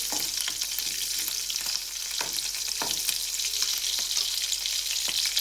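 Chillies fry in oil while being mixed for a roasted brinjal gojju, a loud, continuous bright sizzle with intermittent scraping stirs, heard alone without speech.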